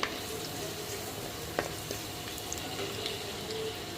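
Peanuts, sesame seeds and garlic frying in a pan for a spinach chutney, a soft continuous sizzle with a couple of small clinks, fairly quiet and close.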